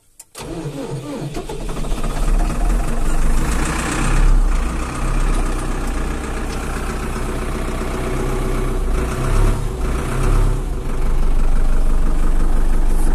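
A car engine runs in neutral on a freezing winter day, a steady low rumble that holds close and loud throughout, with its revs close to dropping off in the cold.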